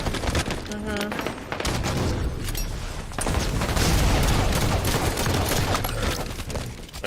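Busy Halo 5 combat, with grenade blasts and gunfire rolling together into a dense, continuous barrage of booms and shots. People talk over the fighting.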